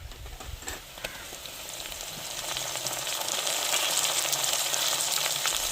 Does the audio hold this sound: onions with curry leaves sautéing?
yes